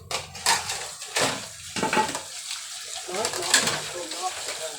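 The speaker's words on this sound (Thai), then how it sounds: "ใส่น้ำ" Water splashes and pours into a pan of stir-fried pork with ginger and wood ear mushrooms, in uneven bursts with clinks of cookware, while a voice talks intermittently over the cooking noise.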